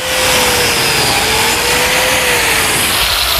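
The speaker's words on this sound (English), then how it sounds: "Here I'm cutting biscuit slots to join the face frame to the cabinet" A biscuit joiner cuts slots in a wooden cabinet face frame in a woodworking shop. Its loud, continuous motor whine and blade roar carry at close range and hold steady throughout, with no talking.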